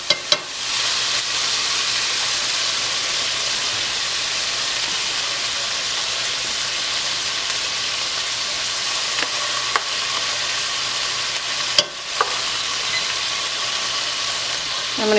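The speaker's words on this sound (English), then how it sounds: "You can hear the sizzling." Ground meat sizzles loudly and continuously in a hot pan with its drippings, a steady hiss with a couple of brief clatters from stirring.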